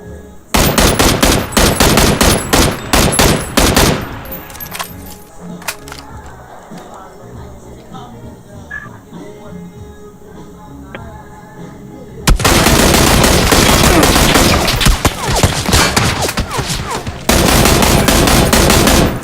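Video game gunfire as a player comes under attack: loud, dense automatic bursts for several seconds, a quieter lull with scattered shots, then long, intense machine-gun volleys resuming up close.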